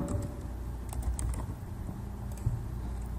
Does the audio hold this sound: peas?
no